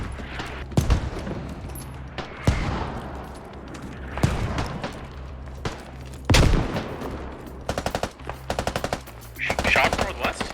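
Gunfire in the military shooter Squad: loud, close single shots and bursts spread out with gaps between them, then a rapid automatic rattle near the end, with no voices.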